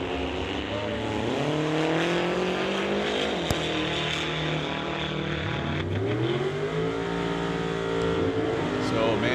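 At an NHRA Summit ET drag strip event, a race car engine drones with shifting pitch as it lifts off the gas and coasts down the track, heard at a distance under a commentator's continuous talk.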